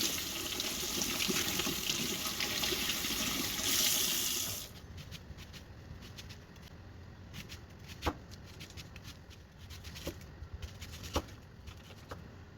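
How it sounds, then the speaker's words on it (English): Tap water runs steadily and loudly for several seconds, then stops, leaving quieter clicks and small handling noises. "Peel it under cold running water."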